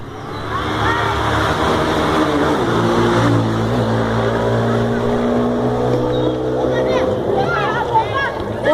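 A motorcycle engine runs loudly and steadily throughout, with roaring revs and harmonic drone, while people talk over it.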